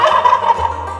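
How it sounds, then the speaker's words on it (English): Farm turkeys gobble in a loud, close, rapid warbling burst lasting about a second, with no talk. "Count the turkeys."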